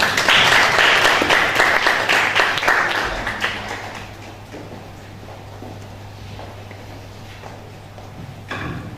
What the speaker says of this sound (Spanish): Recibimos con un cálido y respetuoso aplauso a la profesora Silvia Costa